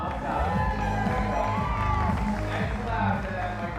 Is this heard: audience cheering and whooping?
yes